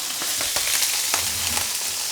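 Sausages sizzle and crackle in a hot frying pan, a steady hiss with scattered sharp pops, close by.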